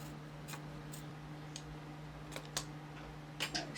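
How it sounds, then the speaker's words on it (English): Scissors trimming fabric appliqué, with a few soft, sporadic snips and clicks up close over a steady low hum, growing slightly louder toward the end. "I'm going to trim this down to a little less than 1/4 inch"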